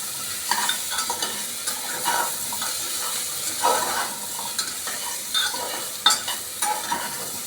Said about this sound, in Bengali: ওলটা দেওয়ার পর আমি একবার নাড়াচাড়া করব।